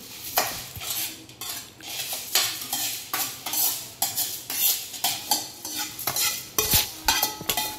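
A utensil scrapes and stirs through spiced flattened-rice chivda in a metal wok, in steady repeated strokes, close up, with no talking.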